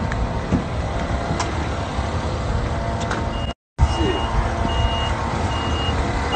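Reversing beeps from a golf cart at a rap artist's estate, a steady repeating electronic beep sounding over continuous vehicle and outdoor noise, with a brief dropout partway through.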